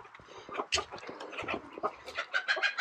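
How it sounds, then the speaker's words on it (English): Loose farm chicken clucking and calling close by in an outdoor setting on rural land, a run of short irregular bursts over a couple of seconds with rustling, no talk. "Chicken that got loose."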